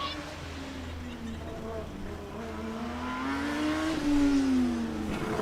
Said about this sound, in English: hear the full spectrum of noises coming from the last lap that we will see from a combustion car at FSG